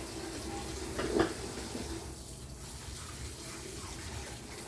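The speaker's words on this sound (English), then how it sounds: "which is why I need to add water to it" Tap water runs to fill a fridge water reservoir in a home kitchen, a steady close splashing flow with a brief clunk of handling near the start.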